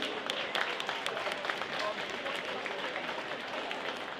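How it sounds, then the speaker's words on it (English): Crowd applause fills a school gym during a spring pep rally for upcoming sports seasons, a steady dense wash of clapping and cheering that holds evenly for a few seconds. "Give them a round of applause for their upcoming seasons."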